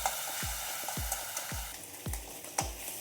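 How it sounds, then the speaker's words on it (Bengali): A masala of onion, ginger and garlic fries in a pan, with a soft, steady sizzle and regular spatula strokes scraping the pan about every half second, close up and without talk. "ভালো করে লাল করে ভেজে নেব।"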